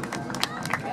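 Applause from a school crowd at the opening ceremony of a youth sports games in Chancay, heard as a dense stretch of steady hand-clapping with a busy murmur of voices mixed in throughout.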